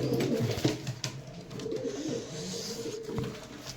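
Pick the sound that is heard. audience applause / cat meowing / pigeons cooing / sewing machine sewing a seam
pigeons cooing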